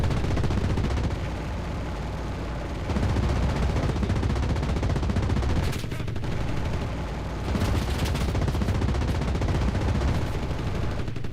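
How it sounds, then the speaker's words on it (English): In the video game Enlisted, rear gunners on a train fire two machine guns and a cannon, producing dense, sustained automatic gunfire in long loud bursts broken by brief pauses. "There's 3 rear gunners. I think it's the 2 machine guns and a cannon back there."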